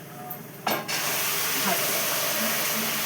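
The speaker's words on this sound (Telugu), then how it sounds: "ఈ తాలింపు వేస్తున్నాను" A sudden sharp sizzle as spices hit hot oil for tempering boiled chickpeas, settling into a steady, loud crackling hiss that continues to the end.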